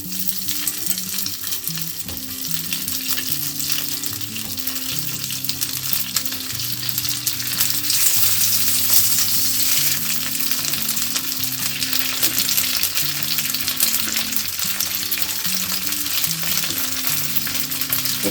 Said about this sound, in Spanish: vamos a ir echando los choricitos para freírlos